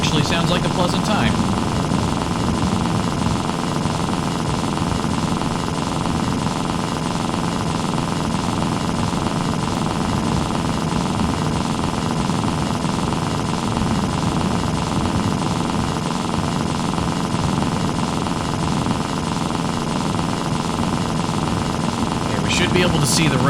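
Motorcycle engine droning loud and continuous while riding in The Long Drive, a rough steady rumble with little change, and someone talking over it throughout.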